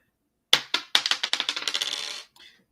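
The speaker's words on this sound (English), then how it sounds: "My dice fell." Dice drop and clatter on a hard surface, a sharp first impact followed by a quickening series of bounces that settle into a rattling roll, then one faint last tap, with no talking.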